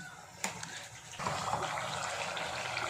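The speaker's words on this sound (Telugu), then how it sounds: "ఇలా ఆయిల్ అయితే వేసేసుకున్నాను" Groundnut oil poured into a pan for Andhra chicken pickle, a steady liquid gush starting after a brief clink and continuing evenly, fairly quiet and close.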